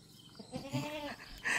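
A goat bleats once, close by on a livestock farm, a wavering nasal cry followed by a short higher call.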